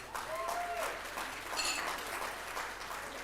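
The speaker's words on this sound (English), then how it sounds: "Everybody give Laurie a round of applause." An audience at a horse show sale event gives a round of applause, moderately loud steady clapping with a few whistle-like tones over it, no speech during it.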